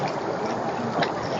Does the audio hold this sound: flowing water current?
yes